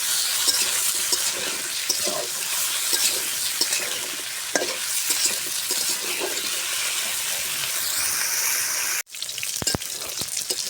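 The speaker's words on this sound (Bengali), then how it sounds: "এখন আমি এই তেলে ফুলকপি আর আলুগুলো ভাজে, আমি ফুলকপি আলুগুলো সুন্দর করে ভাজে নেব" Cauliflower and potatoes fry in hot oil in a pan, giving a continuous crackling sizzle with occasional stirring scrapes and a brief break near the end before the frying resumes.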